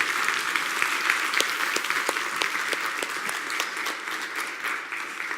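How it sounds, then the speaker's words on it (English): An audience at a Buddhism talk on the Four Noble Truths breaks into applause, a steady, fairly loud crowd of clapping hands that holds for about five seconds. "it's hard to know if you're supposed to clap for something like that, but Tupton"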